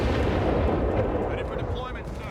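Grenades burst in the Company of Heroes 3 video game, a dense rumbling blast wash with muffled booms, loud and continuous over its short length, with a voice talking over it.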